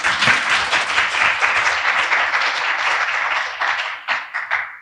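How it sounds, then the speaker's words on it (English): Audience applause breaks out after a talk, a sustained, fairly close burst of many hands clapping that holds steady before dropping to a few isolated claps at the end. "Let's give him a round of applause"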